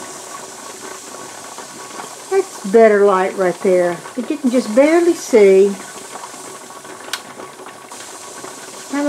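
A pressure canner processing milk hisses steadily with steam while its weight jiggles faintly, mostly under a person talking close by.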